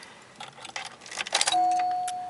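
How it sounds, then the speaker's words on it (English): A key-in ignition chime from a 1979 Cadillac Coupe DeVille Phaeton rings as a steady electronic tone that sounds alone and sustains after some faint rustling and clicks. "Key chime works."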